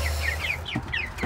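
Chickens cluck softly in a quick cluster of short calls over a brief moment, close by with low background noise.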